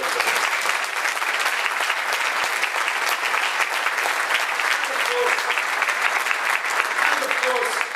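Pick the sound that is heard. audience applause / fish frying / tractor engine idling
audience applause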